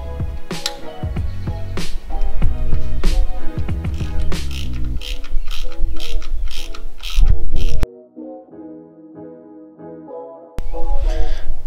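A socket wrench with a 14 mm socket clicks rapidly and loudly on the timing belt tensioner of a SOHC Subaru engine, in bursts of ratcheting, a brief quieter pause, then more clicking.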